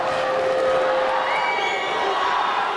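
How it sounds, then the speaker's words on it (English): A kickboxing fight crowd roars in a steady, loud wash of cheering and shouting, one long wall of sound with no commentary over it. "But listen to this crowd, Neil."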